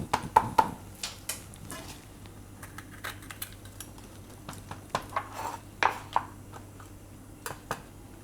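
A knife cuts a capsicum into pieces on a board, making a long series of close, crisp chopping knocks at an uneven pace, with no one talking.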